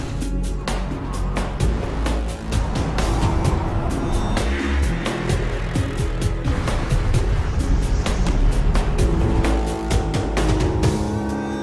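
Attack vehicles racing at full speed across the desert in Homeworld: Deserts of Kharak, a loud sustained engine roar with rumbling surges, sharp impacts and weapon bursts scattered throughout.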